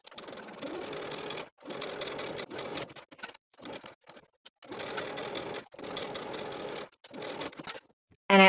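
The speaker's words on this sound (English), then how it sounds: "Now we're going to do our top stitching all around the entire perimeter of the cuff" Sewing machine top stitching all around the perimeter of a dress cuff, running in several steady bursts separated by short pauses, close and moderately loud.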